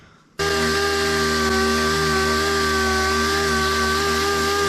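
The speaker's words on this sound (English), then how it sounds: "the rest of that there, we will just sand off with our sander" A power sander grinds steadily against a metal part from an OBS truck in a shop, starting abruptly after a brief quiet moment and then running loud and continuous with a constant whine.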